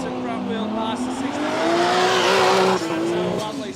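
A drag car launches hard down the strip at Willowbank Raceway with its front wheel lifted, engine roaring loudly and rising in pitch as it accelerates, with a commentator talking over it.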